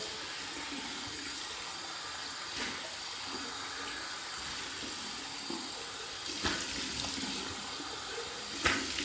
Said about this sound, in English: I'm gonna do my final 2 rinses from the tap, one warm, and then the last one cold